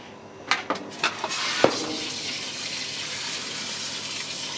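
Chickpeas rinsed under a running kitchen tap, a few clattering knocks at the start, then a steady close gush of water alone.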